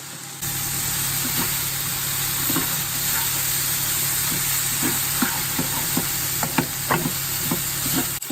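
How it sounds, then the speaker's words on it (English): Onion frying in a pan during home cooking, a steady sizzling hiss under a background hum, with scattered sharper pops and crackles growing more frequent toward the end, no talk. "in that other pan, I've got like the onion. You can see it kind of start burning"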